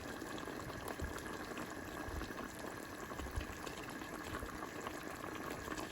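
Meat curry bubbling in a new cooking pot, a steady dense simmering hiss and gurgle, close and even throughout with no voices.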